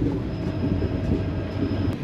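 Steady rolling rumble of the Mysuru–Talaguppa Intercity Express running near Anandapura, a dense low roar from inside the moving carriage with a faint high whine, alone and without speech.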